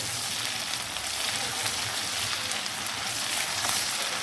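Fresh crushed ginger-garlic paste sizzles in hot oil in a pan, giving a steady, dense crackling hiss that holds at an even level close by with no talking.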